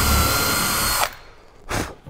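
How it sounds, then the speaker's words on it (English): Power drill boring holes through kayak fabric, a loud, steady whine running for about a second, then stopping, followed by a second short burst of drilling close up, with no speech. "So I'm just drilling holes"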